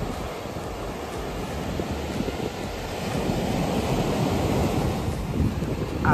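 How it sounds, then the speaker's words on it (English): Pacific Ocean waves break and wash onto a beach in a steady, broad roar, with wind buffeting the microphone throughout and the surf swelling slightly louder toward the end; no one speaks. "He's gonna touch the Pacific Ocean for the first time."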